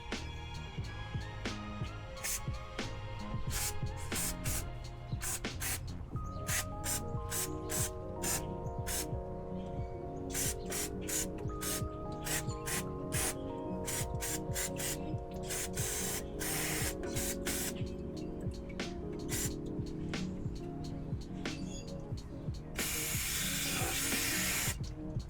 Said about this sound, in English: we've got our brake clean. We're going to spray off our oil filter.